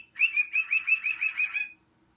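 A pet bird gives a rapid run of about eight bright, close chirps in an even rhythm, lasting under two seconds before falling quiet, with no human voice.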